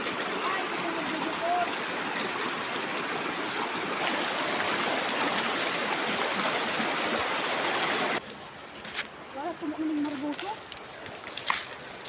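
A river stream flows steadily, a dense broadband rush of water filling most of the clip, then dropping to a quieter trickle as people talk nearby.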